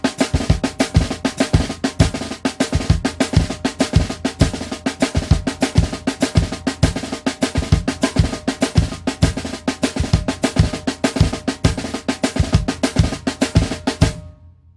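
Drum kit playing a Brazilian tarol snare pattern with bass drum played by the feet, rapid close snare strokes over regular low kick thumps in a steady groove, loud and continuous before stopping.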